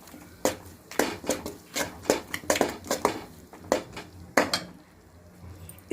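Egg mixture stirred with a utensil in a frying pan of oil for spicy egg fry masala rice, a string of close, uneven scraping and clinking knocks against the metal, with brief pauses, no talking.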